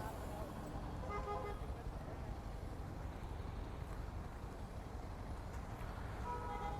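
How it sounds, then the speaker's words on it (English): Busy Bangalore street traffic after a long festival weekend, a faint steady wash of engine noise with brief car horn toots near the start and again at the very end. "Bangalore traffic is back after festival, after a long weekend."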